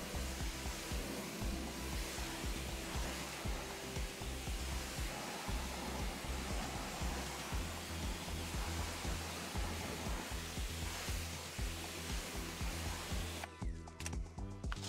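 A water spray rinses a dirty car during a detailing wash, a steady loud hissing rush with irregular splashing that runs throughout and cuts off briefly near the end.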